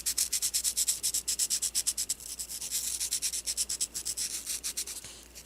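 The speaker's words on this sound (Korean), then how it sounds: "처음에는 좀 굵은 사포로 해서 다듬고, 그 다음에 점점 가는 사포로 다듬으면 됩니다." Sandpaper rubs back and forth over a small miniature bowl in quick, steady strokes, close and moderately loud, a brief pause breaking the rhythm before the scraping resumes.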